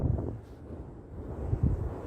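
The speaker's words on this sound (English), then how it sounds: "In fact, you can listen to the wind." Low, rumbling wind buffets the microphone outdoors on Benbecula, steady throughout with a few stronger gusts, and no voices.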